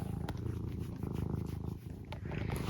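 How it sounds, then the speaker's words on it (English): A pet cat named Eric purring steadily and close up, a continuous rhythmic rumble with a few soft clicks over it. "Is it because you're purring?"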